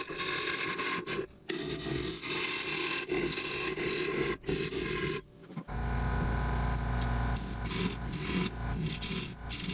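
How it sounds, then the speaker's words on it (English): A wood lathe turning a bowl from salvaged lumber at about 600 RPM gives off continuous scraping and cutting noise that breaks off briefly several times, then grows heavier with a deep rumble toward the end. "I didn't have the lathe spun up super fast. It was probably at about 600 RPM through the whole process."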